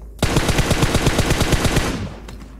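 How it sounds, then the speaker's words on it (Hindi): Rapid automatic gunfire in the battle-royale game PUBG, a sustained burst of about twenty evenly spaced shots, loud and close, stopping abruptly with a few faint distant shots after. "टीम नंबर 3 द्वारा फायरिंग हुआ"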